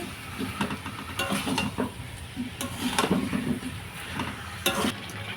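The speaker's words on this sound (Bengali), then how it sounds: "এরপর ভালো করে মশলার সঙ্গে আলুটা একটু নাড়িয়ে চাড়িয়ে নিচ্ছি" Potatoes tossed with spices in a frying pan for a chicken kosha dinner, a spoon scraping and clinking against the metal in irregular strokes over a low sizzle, close and fairly loud with no talking.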